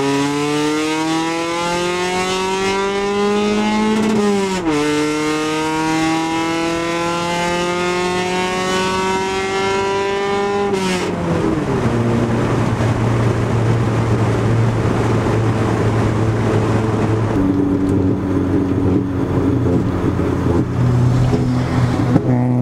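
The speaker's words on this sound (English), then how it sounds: "it's idling ridiculously high, and then it'll go surging, and then it'll do whatever it wants." A car engine idles unusually high and surges on its own, its tone climbing and dropping in uneven swells, a loud, close, steady engine whine that wanders in pitch with no one talking.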